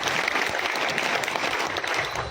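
A rally crowd claps together in a dense, continuous burst of applause, loud and close, holding steady to the end.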